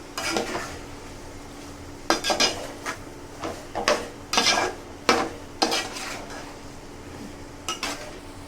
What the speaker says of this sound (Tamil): ஃபர்ஸ்ட் இதை கிளறி விட்டுக்கலாம்.